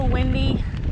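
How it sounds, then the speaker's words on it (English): Gusty wind buffets the microphone in a low rumble, with a voice talking over it outdoors on a hiking trail near St George, Utah. "It's a little windy."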